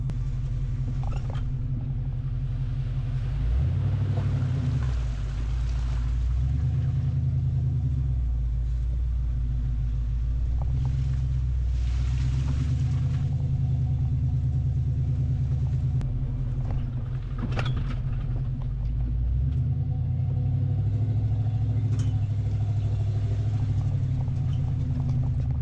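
A car carrying three e-bikes on an OUTFITR 3-bike hitch rack with ramp drives over a light dirt road, giving a steady low rumble with scattered rattles and bumps throughout.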